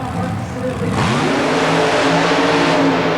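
A super modified mud racing car engine revs up hard and loud at Nassau Coliseum, its pitch climbing after a short idle, with an announcer talking over the roar.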